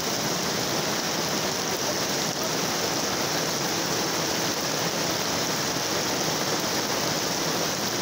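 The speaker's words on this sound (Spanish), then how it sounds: "Llueve en Villa Carmelo, fuertemente." Heavy summer rain pours steadily in Villa Carmelo, a dense, even hiss of falling water that stays loud and unbroken throughout with no voices.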